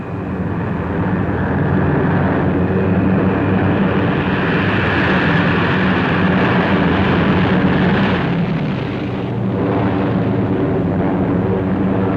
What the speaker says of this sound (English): the seemingly endless waves of planes the most imposing aerial parade I have seen since the beginning of this long war